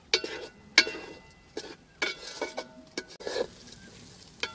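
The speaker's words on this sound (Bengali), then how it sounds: "মশলার সঙ্গে চালার ডাল ভালো করে মিশিয়ে নেব" Rice and dal being stirred with chili and spices in a pot for Bengali khichuri, with scraping strokes and soft sizzling clicks at an irregular rhythm, close and fairly quiet.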